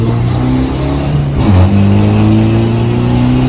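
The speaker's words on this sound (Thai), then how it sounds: "เอาเหยียบสุดเลยสี่พันรอบเปลี่ยนเกียร์ไปเลย" An Isuzu D-Max diesel engine with a remapped tune revs hard to about 4000 rpm, a loud steady drone that dips briefly at a gear change and then climbs again, close and continuous.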